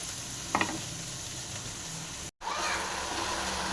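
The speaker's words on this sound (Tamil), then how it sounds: "நல்லா ஃப்ரை நல்லா வதங்கட்டும்" Radish and ridge gourd frying in a pan, a steady soft sizzle running throughout with a brief stirring clatter near the start and a momentary dropout midway.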